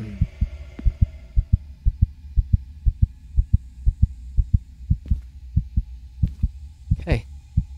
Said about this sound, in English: I can just hear it, the heartbeat.